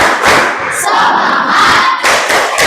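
A classroom of students shouting the 'tepuk semangat' chant together, loud and close: a dense crowd of voices with rhythmic thumps of claps, in short bursts with a brief gap near the end.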